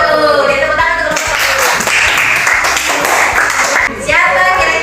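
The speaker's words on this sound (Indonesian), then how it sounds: "Jadi tepuk tangan untuk kelompok" Students in a classroom clap for a group of classmates, a dense burst of many hands clapping at once, loud and near, over music with a steady beat.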